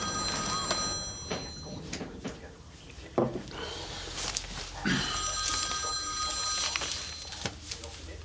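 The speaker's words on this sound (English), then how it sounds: "Do you notice that ringing sound?" A telephone bell ringing indoors in an Irish TV drama scene, repeated trilling rings in bursts at moderate distance over room noise, with occasional bumps and movement sounds between them.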